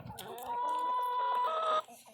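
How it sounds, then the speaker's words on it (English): Chickens perched up in a tree give a drawn-out, tonal squawking call lasting over a second, with softer clucks around it, close and fairly loud. "Yeah, a bunch of chickens up in the tree there."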